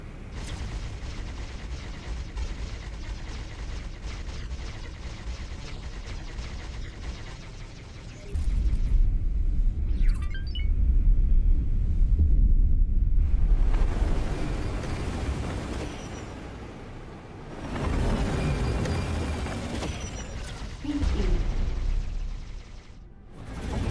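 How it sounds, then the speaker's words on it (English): Spaceship engines in the space game X4 Foundations give a loud, continuous low roar and rumble, swelling and dropping in long surges with sharp mechanical bursts between them. "Love the noise. These engines are awesome."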